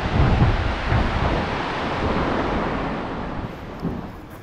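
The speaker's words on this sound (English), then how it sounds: "It's kind of windy." Steady, strong wind at Exit Glacier in Seward, Alaska buffets and roars continuously, gusting a little louder at the start, with no voices.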